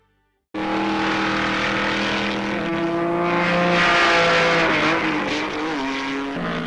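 Trans Am race cars, specially prepared production cars, racing on a twisting Grand Prix style circuit, engines roaring loud and steady with rising and shifting pitch as they accelerate and change gear.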